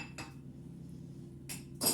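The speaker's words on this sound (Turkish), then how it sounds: "tek elle bulaşık makinesi dizmedim demem" Dishes are loaded into a dishwasher one-handed at home, with a few sharp clinks and clatters of plates and cutlery over a low background hum.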